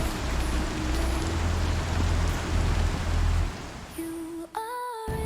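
Rain falls in a Star Citizen event, a dense steady patter with low rumble that cuts out partway, leaving electronic tones and beeps from the game.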